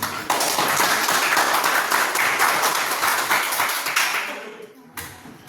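A classroom of students claps hands together in a dense, lively burst that holds steady, then thins and fades out near the end, with a brief voice at the close.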